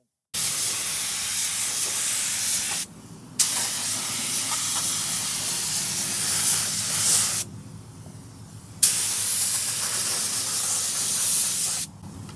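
A spray gun coats the cab of a 1974 Ford F250 with epoxy primer in three long, loud bursts of close, even hiss, each several seconds long, separated by brief quieter gaps.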